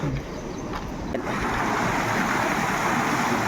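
Floodwater rushes in a steady, loud broadband roar near a bridge during heavy rain, with continuous turbulent flow and some wind buffeting on the microphone throughout.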